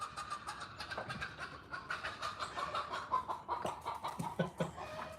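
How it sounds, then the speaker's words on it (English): Faint, fussy clucking from a chicken being chased by a dog, in rapid uneven bursts under a steady rushing background noise, with a few sharper squawks near the end. "Dog chasing chicken, boy."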